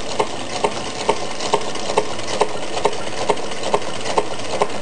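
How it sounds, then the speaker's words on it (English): A candle-powered Stirling engine built from Meccano runs with a soft, regular ticking, about two clicks per second, over a steady background hiss. "The Stirling engine is an engine that uses hot air or gas instead of steam."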